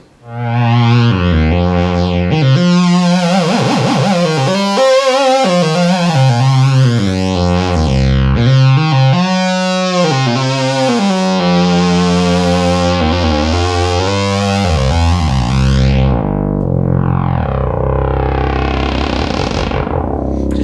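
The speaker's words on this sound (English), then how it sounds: "we'll make that actually modulate the oscillators" A restored 1972 Minimoog synthesizer, its third oscillator modulating the other oscillators, drones loudly and continuously with shifting, warbling pitch sweeps and gritty harmonics, alone without speech.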